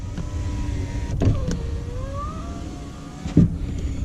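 A car's power windows hum as their electric motors run with the vehicle in accessory mode and the engine off, a steady whine that shifts pitch as the glass travels, with soft clunks as the windows stop.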